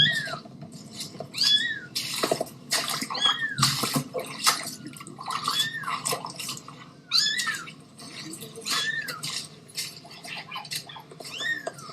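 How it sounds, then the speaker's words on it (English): Kittens from a litter rescued from shelling mew repeatedly in thin, high, plaintive cries, several overlapping close to the listener, over a constant background wash like running water. "a frontline volunteer rescuing a litter of kittens from Russian shelling"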